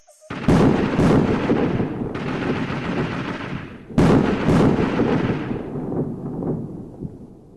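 Cartoon gunfire and grenade explosions, two loud sustained bursts of shooting and blasts, close and dense, each tailing off into echoing rumble.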